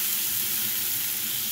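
Onions sizzle steadily in a hot pan, a constant close frying hiss with no talking.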